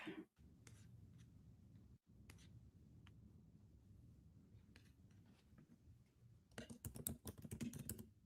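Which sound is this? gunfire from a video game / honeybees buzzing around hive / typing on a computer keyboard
typing on a computer keyboard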